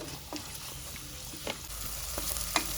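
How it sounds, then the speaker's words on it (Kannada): Two medium onions fry in three to four spoons of oil for chicken gravy, a steady close sizzle broken by several light scraping and tapping stirs. "ಈರುಳ್ಳಿ ಚೆನ್ನಾಗಿ ಫ್ರೈ ಮಾಡ್ಕೊಳ್ಬೇಕು"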